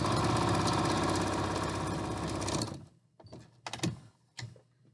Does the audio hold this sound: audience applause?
no